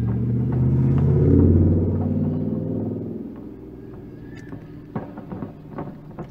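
A Holden car driving past outside, a low engine rumble that swells over the first few seconds and then fades, followed by a few faint knocks.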